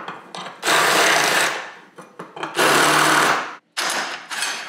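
A power tool deburrs a steering part during a Super 7 Locost kit car build, sounding as loud, close bursts of harsh grinding that start and stop several times, with brief gaps of near silence between them.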